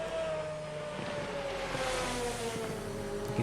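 Lamborghini GT1 race car in a sim racing game at Suzuka, a steady engine whine sliding gradually lower in pitch as it goes by off to the side, moderately loud and continuous with no talking.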